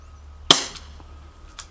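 A single sharp, close crack as a Gletcher CLT B25 CO2 BB revolver fires once outdoors. A quick decaying ring follows, then a faint tick and a small later click.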